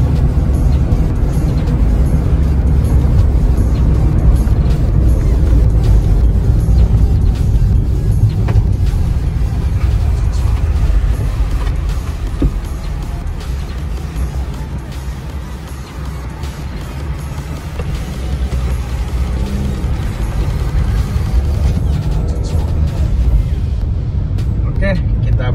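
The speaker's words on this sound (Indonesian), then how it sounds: "Kita tes lari mobil ini sampai 100 km, 100 lebih seperti ini" Toyota Vios Limo sedan accelerating fast on a toll road, a loud continuous road and engine roar with wind noise that dips slightly mid-way and then swells again, a voice speaking over it.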